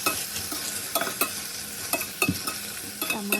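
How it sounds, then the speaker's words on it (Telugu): Ginger paste frying in a pan for paneer kofta curry, with a spoon stirring through it: steady broadband sizzle broken by sharp scraping strokes against the pan at irregular intervals, close and fairly loud. "లైట్గా అల్లం పేస్ట్ వేసుకొని మగ్గే వరకు కలుపుకోవాలి."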